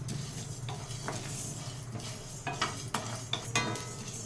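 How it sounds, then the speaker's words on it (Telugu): Drumstick leaves dry-roasting in a pan, with a faint sizzle under repeated scraping and clinking as a spoon stirs them against the metal, the strokes growing sharper near the end. "వాటిలో తేమ పోయే వరకు వేపేసుకుందాం"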